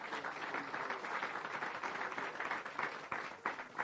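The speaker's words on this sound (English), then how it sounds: "Give the children a big round of applause" An audience at an outdoor tree-planting launch event in Jamaica gives steady applause for the children, a continuous dense wash of clapping heard from a distance.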